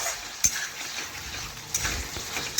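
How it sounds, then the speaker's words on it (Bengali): Potatoes and carrots are stirred in a pan while the water cooks off, giving soft scrapes and occasional utensil knocks over a steady, gentle sizzle-like hiss. "আমি এইভাবে নাড়াচাড়া করতে করতে দেখুন জলটা শুকিয়ে নিচ্ছি"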